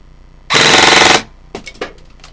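An airsoft gun fires a single sustained full-auto burst of roughly two-thirds of a second, loud and close, with a dense rapid rattle. Scattered clicks and handling noises follow.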